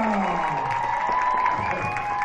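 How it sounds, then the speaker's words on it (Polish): A crowd in a shopping mall applauds and cheers for flamenco dancers after a flashmob performance, a dense steady wash of clapping with voices mixed in throughout. "brawa na nich"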